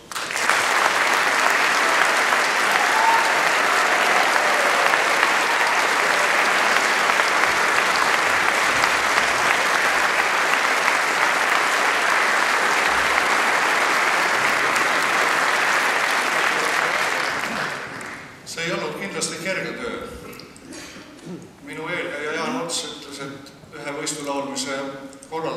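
Loud, dense applause from an audience thanking the jury members at the announcement of results from a men's choir singing competition, sustained evenly for about seventeen seconds before fading, followed by a speaking voice.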